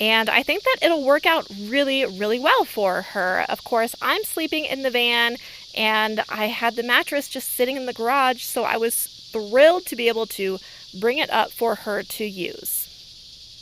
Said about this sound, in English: if you can hear the cicadas in the background, that's what they are